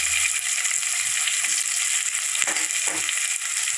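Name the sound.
onions frying in pan for jeera rice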